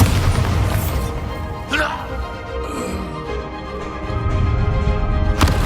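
A Bombarda spell explodes in Hogwarts Legacy during a troll fight: a heavy boom with crashing debris near two seconds, a rumbling tail under steady game noise, and another sharp bang near the end.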